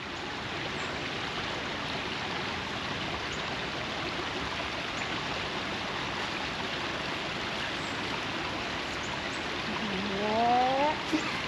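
Steady, faint rush of a flowing stream at an outdoor sculpture garden, continuous broadband babble with a short tonal squeal near the end.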